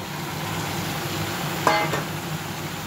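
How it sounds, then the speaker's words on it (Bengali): Pieces of bottle gourd tipped into hot oil give a steady, moderately loud sizzle, with a brief clatter near the middle as they land. "আমি এবার লাউগুলো ছেড়ে দিচ্ছি বন্ধুরা"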